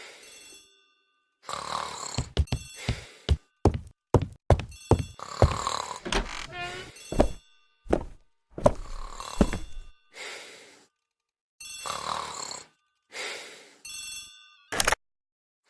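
A telephone rings repeatedly in a hall inside a detective video game, with bright electronic rings arriving in uneven bursts separated by stretches of silence.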